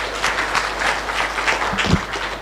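A scientific conference audience at the 11th MUHAS Scientific Conference applauds, a steady, dense wash of many hands clapping at once that holds at an even level throughout the moment.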